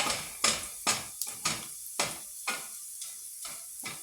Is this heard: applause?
no